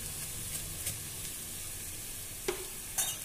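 Green chilies and asafoetida sauté in a hot pan with a continuous soft sizzle, broken by a few faint scraping stirs near the end.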